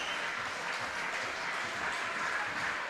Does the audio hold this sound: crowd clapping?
yes